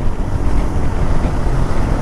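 Heavy wind roars and buffets the microphone while riding a Royal Enfield GT 650 motorcycle, a steady, dense rush that never lets up.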